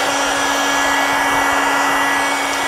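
A steady, loud electric heat gun whirs without pause while drying leather car upholstery, a constant hot-air roar with a high whine running throughout.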